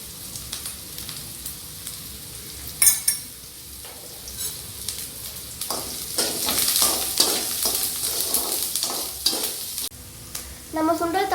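Onions sizzle loudly in a pan with a little salt added while a spoon scrapes and stirs in quick bursts, with a few sharp metal clinks.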